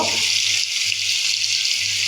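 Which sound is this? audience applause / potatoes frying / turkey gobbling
potatoes frying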